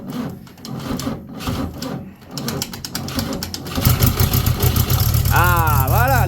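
A 63-year-old car's starter cranks with a steady rough whirring that grows louder and denser toward the end, with voices talking over it.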